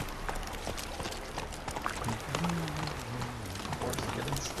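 Roach, the horse in The Witcher 3, galloping with rapid, close clip-clop hoofbeats in a continuous rhythm, under someone talking.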